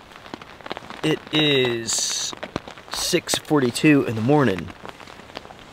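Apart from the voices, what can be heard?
freezing rain on tent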